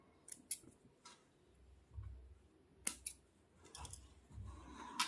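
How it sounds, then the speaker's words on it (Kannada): Scissors snip the loose thread ends on a knotted saree tassel, a few soft close clicks and crisp cuts spaced apart in a quiet room. "ಸೈಡಿಗೆ ಬಂದಿರೋದನ್ನು ಈ ಥರ ಕಟ್ ಮಾಡ್ಕೋಬೇಕಷ್ಟೆ"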